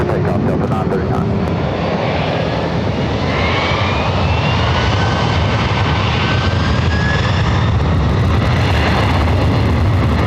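Delta heavy jet airliner taking off, a loud, steady engine roar that fills the whole stretch without letting up, with faint voices over it.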